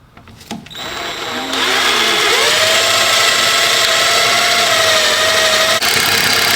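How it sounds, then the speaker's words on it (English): A power drill boring holes for self-locking bolts on a Duramax pickup's airbag suspension bracket, winding up after a brief start and then running at a steady, loud, continuous pitch that holds for several seconds before a short dip near the end. "Let's go ahead and start drilling."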